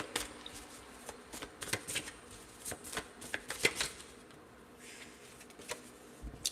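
A deck of tarot cards is shuffled by hand nearby, producing soft repeated riffling and flicking bursts at an irregular rhythm, fairly quiet with no talking.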